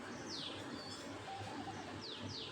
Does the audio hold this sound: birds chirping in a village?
yes